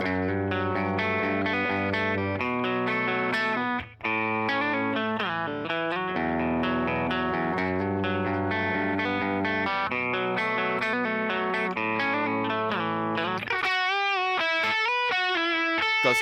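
Heavily effected guitar with distortion and chorus plays a dense, sustained breakdown passage for about thirteen seconds, then drops to a brighter, sparser picked section near the end; loud and continuous, with no talking.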